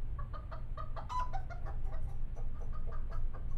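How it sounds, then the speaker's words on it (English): Chickens cluck and chatter in a quick irregular series of short calls, fairly close and moderately soft over a low background hum, in the Law & Order Legacies video game. "What's that noise? Our chickens."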